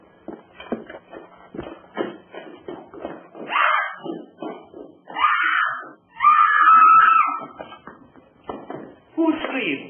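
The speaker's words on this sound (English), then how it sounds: "Who screamed? I did." A woman screams in a strange house in a 1933 film, with sustained cries rising over shuffling footsteps, clattering and excited voices in a busy, loud scene.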